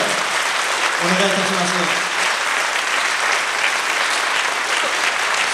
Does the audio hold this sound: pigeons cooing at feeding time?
no